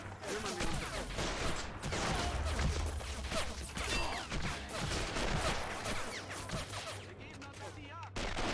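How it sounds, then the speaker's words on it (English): Heavy battlefield gunfire from the video game Men of War: Assault Squad 2: dense, overlapping rifle and machine-gun bursts with booming impacts, loud and nearly unbroken throughout. "They are under some heavy fire being caught out in the open like this."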